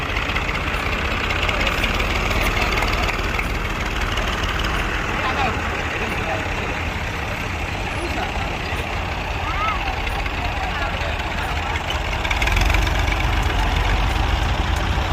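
A low, steady tractor engine idles throughout at an even level in Navali, Jaffna, Sri Lanka, with no clear changes in pitch and some faint background noise on top.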